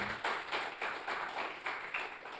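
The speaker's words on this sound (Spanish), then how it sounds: "¿Cuántos le dan un fuerte aplauso a este miércoles de adoración?" Church congregation at a Wednesday worship service claps in a faint, steady rhythm, regular hand claps at an even pace heard from some distance with no voices on top.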